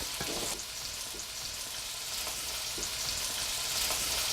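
Sauce bubbles and sizzles in a pot, a steady crackling hiss with soft popping, close and fairly quiet, with no voices.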